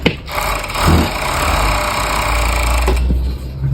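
Overlock sewing machine stitching denim jeans: a loud, steady mechanical whir with a low motor hum running almost continuously, starting and stopping with brief pauses at the edges.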